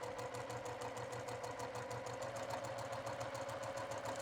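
A sewing machine stitches up the side seam of a sleeve, running steadily with a fast, even mechanical whir and rapid rhythmic needle pulses throughout. No one speaks.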